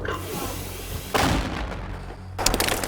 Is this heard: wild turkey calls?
no